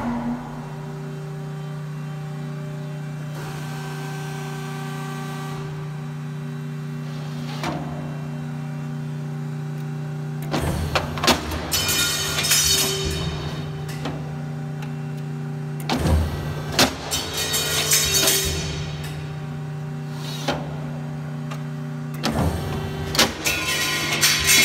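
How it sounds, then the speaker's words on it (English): An RMT C-SMART-A 10-250 hydraulic swing beam power shear hums steadily as it powers up, then lets out several loud clanking cutting strokes with mechanical whirring between them. "I'm gonna go ahead and power the machine up and do these cuts."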